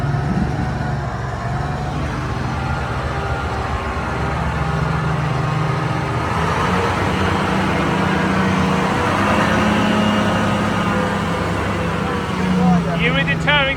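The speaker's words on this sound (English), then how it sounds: "Gentle driving. The Antar squeezes by." An Antar heavy truck rolls slowly and gently past, its deep low engine drone steady and close throughout, with a rising whine near the end and people talking over the rumble.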